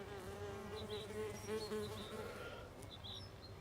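A shiny mason bee in a garden hums in a low, steady drone, faint and continuous, with brief high bird chirps in the background.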